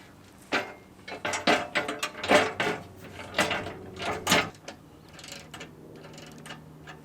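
A ratchet wrench clicking as bolts are started on a Toyota Tacoma TRD skid plate, bursts of rapid ratcheting with metallic clinks and pauses, close up, then fading to quieter handling.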